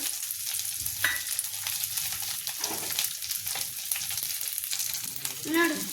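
Garlic and coriander frying in a pan on a home stove, with a steady, close crackling sizzle and occasional stirring scrapes throughout, no talking.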